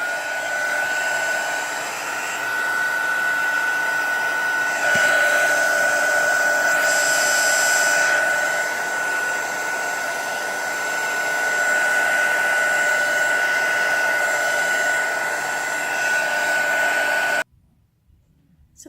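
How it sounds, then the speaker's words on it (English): A heat tool blows steadily for heat embossing on a card, a close continuous whirring hiss lasting about seventeen seconds before cutting off abruptly into near silence. "I'm going to use my heat tool to heat emboss that."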